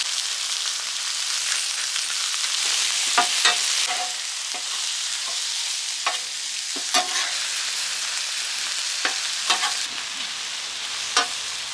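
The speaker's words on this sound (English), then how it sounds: "I'm going to put just a little bit of avocado oil on the mushroom." Mushrooms, peppers and onions fry in avocado oil in a pan, a steady close sizzle broken by scattered clacks and scrapes of stirring, with no talk.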